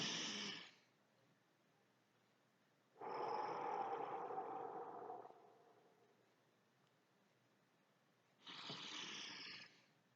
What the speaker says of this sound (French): Vous allez tout simplement continuer à inspirer par le nez et expirer fort par la